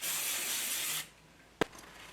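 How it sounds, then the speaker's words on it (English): A steady spray of brake cleaner aerosol hisses for about a second during valve cover gasket work on a Toyota 2JZ-GE engine, then stops, followed by a quiet pause and one short sharp knock. "Use a clean paper towel, some brake clean, wipe it off."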